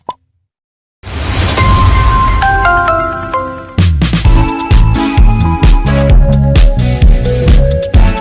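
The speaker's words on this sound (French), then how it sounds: "activer la cloche de notification" A bright bell-like chime rings out after a short silence, followed by a busy run of layered plucked tones and dings, loud and continuous with no talking.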